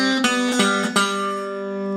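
Four plucked notes on an acoustic guitar close out a Delta blues riff, three quick attacks followed by a longer ringing final note, close and clear with no talking.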